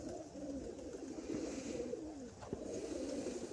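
Several pigeons coo steadily nearby, their low rolling calls overlapping continuously against a soft background hiss.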